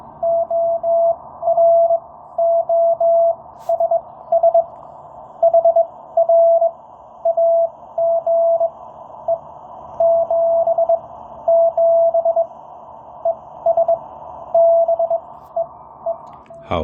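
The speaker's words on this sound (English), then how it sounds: "here's your Morse code test." Morse code keyed as a single steady tone from a homebrew 5-watt superhet transceiver on the 30-meter band, loud and close, with rhythmic dots and dashes in irregular bursts and short gaps, and no talk.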